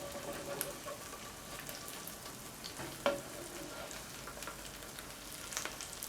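Homemade crab cakes frying in a pan on medium-low heat make a soft, steady sizzle close by, broken by a few light clicks and taps of a utensil against the pan.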